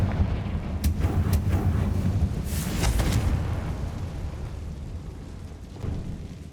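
A Confringo spell blasts a barricade in the video game Hogwarts Legacy: a few sharp pops lead into a rumbling, crackling burst of explosion that then fades into a low, steady background rumble.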